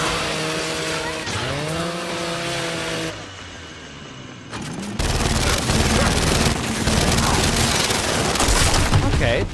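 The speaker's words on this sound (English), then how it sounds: "I'll just play suppressive fire." Suppressive gunfire in Gears 5 turns into a loud, dense, continuous roar of rapid automatic shots through the second half, after revving engine-like tones and a quieter stretch.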